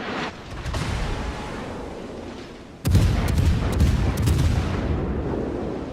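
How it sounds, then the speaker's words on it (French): Naval guns fire from warships in the World of Warships video game, a low rumbling battle din that jumps to a loud, heavy burst of booming salvos midway and keeps rolling with layered cannon blasts. "Le Mourmansk nous tire dessus"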